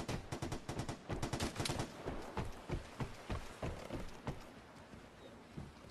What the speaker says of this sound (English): Oh, there's some gunshots.